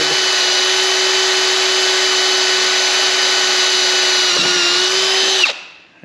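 A power drill, pressed hard while boring a hole through metal, runs at a loud, steady high-pitched whine for about five seconds before it cuts out and winds down abruptly.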